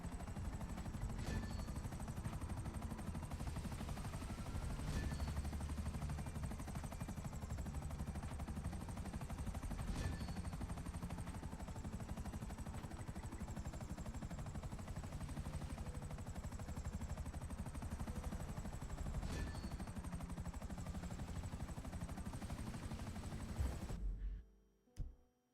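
In GTA V gameplay, a helicopter's constant rotor roar runs throughout, with bursts of machine-gun fire and scattered shots cutting through at intervals. Everything stops abruptly near the end.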